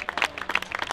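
An audience at a basketball team introduction applauds, a short, dense burst of many hands clapping in quick, irregular claps.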